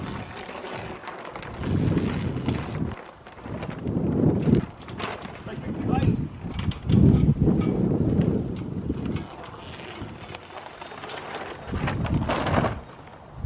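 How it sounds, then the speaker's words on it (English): Gusting wind of about 12 mph buffets the microphone outdoors during a greenhouse end-wall plastic installation, coming in loud rumbling surges that rise and fall, with people talking underneath. "For a day that it wasn't supposed to be windy, it picked up pretty good today."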